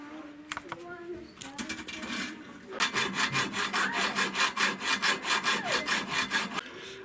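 A hand saw cuts at a marked notch with a few tentative strokes, then with fast, even back-and-forth rasping strokes, close up and loud, with faint talk early on.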